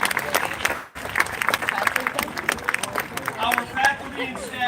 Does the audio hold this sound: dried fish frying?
no